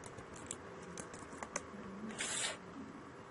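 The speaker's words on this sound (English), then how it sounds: "When I type ADB devices," Quick keystrokes on a computer keyboard as a command is entered to check for a connected Android tablet (FabTab Quadro 7), a run of soft, close clicks with a brief louder burst near the end.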